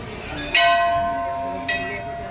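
Temple bells at a temple in Satna, Madhya Pradesh, ring out in two distinct strikes, the first louder, each leaving a long shimmering resonance that hangs in the air.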